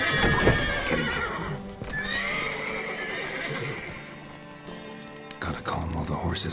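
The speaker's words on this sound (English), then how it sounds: "Gotta calm all the horses before they wake the guards." Horses neigh and whinny loudly in The Witcher 3: Wild Hunt, with clip-clopping hooves and shifting game ambience beneath, the whinnies rising and falling in long, wavering cries.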